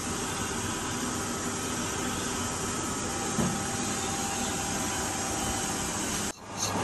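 A bent flywheel is clamped in a lathe and skimmed flat, giving a steady, loud mechanical whine and hiss with faint tonal hum that runs continuously before cutting out abruptly near the end.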